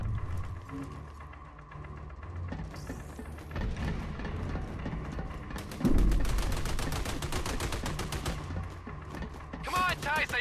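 Gunfire rattles through a firefight on an aircraft carrier in the video game Army of Two, with dense bursts of automatic fire and sharp single shots that swell louder midway, under intermittent voices.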